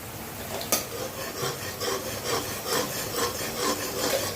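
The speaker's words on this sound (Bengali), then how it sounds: "এখন সুন্দর করে মশলাটাকে কষিয়ে নিচ্ছি" Spice masala with Kashmiri chilli powder being stir-fried in a pan for katla kalia, heard as continuous rhythmic scraping and rubbing strokes over a steady low sizzle, close up, with one sharp knock early on and no speech.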